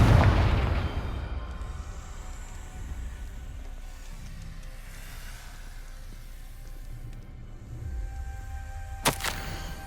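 A Confringo blasting spell explodes in Hogwarts Legacy with a loud, booming burst at the start that rumbles away, followed by quieter ambience and a sharp crack near the end.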